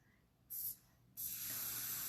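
Two hissing bursts of spray foundation makeup: a short puff, a brief pause, then a longer continuous spray close to the microphone.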